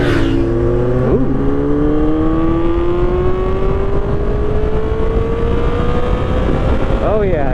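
A motorcycle engine revs hard up to about 8,000 rpm, its loud, smooth whine climbing steadily in pitch after a quick gear change, with a brief shift near the end.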